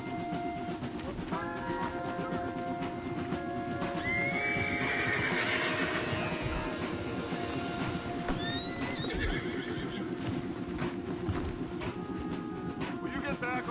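Horse hooves clip-clop steadily in the Red Dead Redemption II video game, joined by a loud neighing whinny midway and a second shorter call later, over continuous background sound with some speech.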